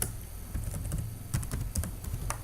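Quick, uneven clicking of fingers typing on a computer keyboard, close and clear with no voices.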